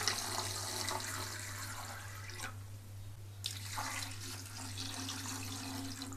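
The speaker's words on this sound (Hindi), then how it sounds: "इसमें पानी डालने के बाद" Water pours steadily into a cooking pot while chicken pulao is being made, a continuous splashing stream that briefly thins and drops away midway before resuming, over a constant low electrical hum, with no talking.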